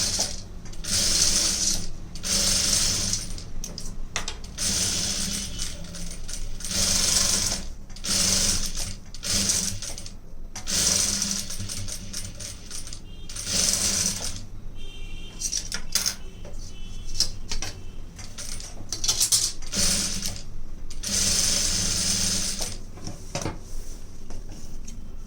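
A sewing machine stitches thread piping onto fabric, running in loud, rapid mechanical bursts broken by brief pauses, with steady rattling clatter throughout.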